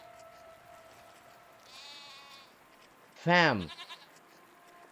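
Goat bleating in a video game, one loud wavering bleat after a short talking voice, with a fainter higher call a moment before.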